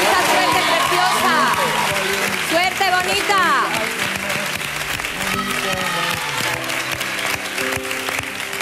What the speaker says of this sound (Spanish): Un aplauso muy fuerte para Marina